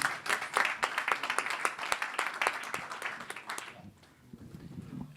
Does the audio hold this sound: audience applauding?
yes